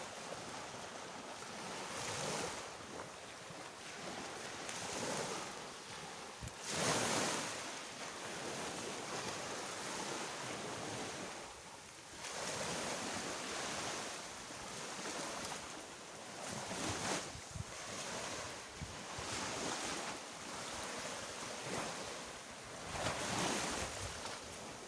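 Sea waves roll onto a beach at Barelang, Batam, surging and receding in steady washes for the full stretch, with gusts of wind buffeting the microphone throughout.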